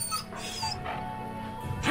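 A dog in the video game Dragon Age Origins whimpers and whines in short, high yelps, close and fairly loud, over a faint game background with no clear speech.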